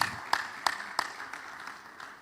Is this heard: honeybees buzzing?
no